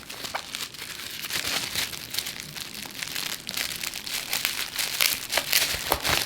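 Crinkling plastic packaging being pulled off during a Yema Superman Black watch unboxing, a close, steady stream of crackles and small tears with no talking.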